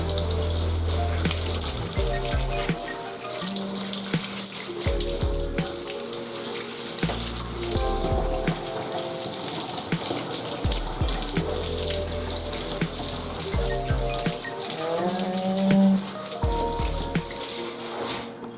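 Tap water runs steadily over smoked homemade Polish sausage links in a sink, a continuous loud splashing gush with shifting tones as the links are rinsed, no talking.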